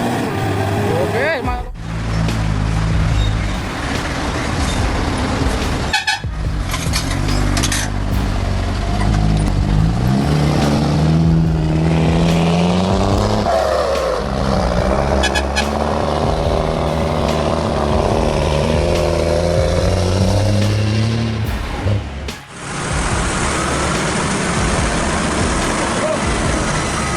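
Off-road trucks in a muddy rescue, their engines roaring and straining with rising and falling revs, loud and continuous for about half a minute, with voices talking over them.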